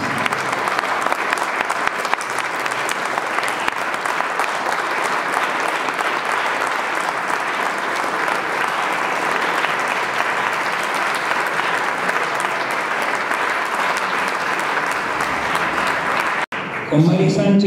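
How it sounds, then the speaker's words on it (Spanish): A talk audience gives a strong, sustained round of applause, dense and steady clapping filling the room for about sixteen seconds before cutting off abruptly, followed by a brief bit of voice. "yo luego que termine la exposición solicitaría un fuerte aplauso"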